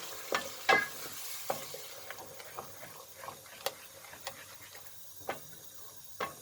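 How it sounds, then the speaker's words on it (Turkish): Scattered light scrapes and clicks of a utensil stirring minced meat in tomato sauce in a pan, irregularly spaced over a faint low background, with no talking. "Domates sosu ile birlikte güzelce karıştıralım."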